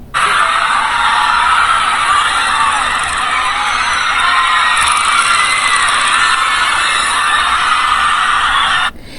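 Crowds of fans scream continuously at the arrival of BTS at Estadio GNP, a dense, high, unbroken roar of shrieking voices that cuts off abruptly at the end.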